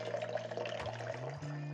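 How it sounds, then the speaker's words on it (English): Water poured into a container for making cocktail syrup, a soft steady splashing fill whose pitch rises toward the end as the vessel fills, quiet and close with no talking. "I like to add the water into the container first."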